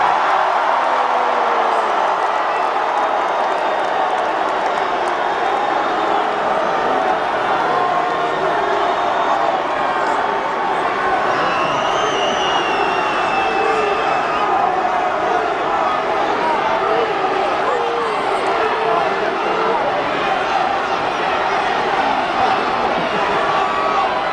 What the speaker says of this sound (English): We got half the crowd chanting Cena sucks, the other half chanting Rocky